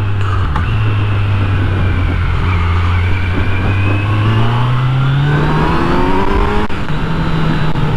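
A 2020 Kawasaki Z900 motorcycle accelerates hard, its engine note rising steadily in pitch through a gear, loud and close with constant wind roar and no talk.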